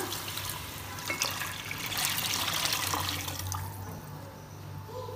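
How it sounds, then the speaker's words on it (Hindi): Water from a jug pours into a pot of browned beef for haleem, a steady splashing stream lasting several seconds and tapering off toward the end, close and fairly loud with no talk. "अब इस स्टेज पर इसके अंदर हम डाल देंगे 1 जग भर के पानी का"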